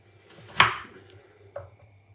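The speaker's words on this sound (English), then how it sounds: "We are cutting up some carrots nice and battens." Carrots being cut into batons on a cutting board: one sharp knife chop against the board, then a second softer one about a second later, close up, over a low steady hum.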